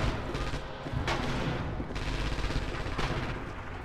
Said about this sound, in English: instant chaos as I run into the artillery.